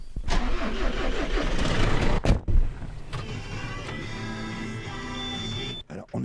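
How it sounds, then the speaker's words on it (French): A green tractor on an organic farm starts up with a cranking whir and catches into a steady mid-pitched idling rumble that runs on, close and fairly loud. "Est-ce que je peux vous accompagner dans votre tracteur vert, Michel François?"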